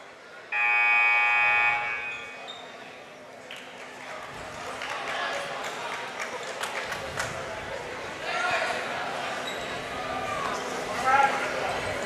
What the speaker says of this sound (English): Buzzer's calling for the end of a timeout.